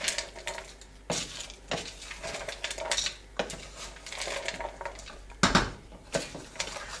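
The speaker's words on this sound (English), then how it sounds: "here we're going to stir this all together" A spoon stirring tortilla soup ingredients, including beans, in a metal pot: repeated clinks and scrapes against the sides in an uneven rhythm, close and fairly loud, with no talking.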